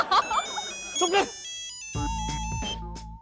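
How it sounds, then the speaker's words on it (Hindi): A telephone rings with a steady electronic tone over a low background, preceded by brief bursts of talk and movement in an indoor scene. "फोन की घंटी बज रही है, फोन तो उठा लो"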